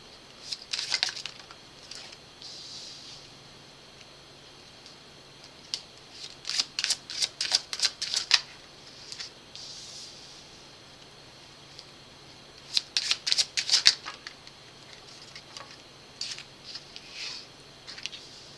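Bursts of crisp card shuffling come and go in clusters, riffles and soft patters separated by quiet pauses, fairly close and without talk.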